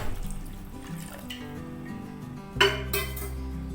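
Metal pots and utensils clink in a kitchen, then water splashes and pours into a pot of cooking qeema with whole onions for about a second, fairly close, with no speech.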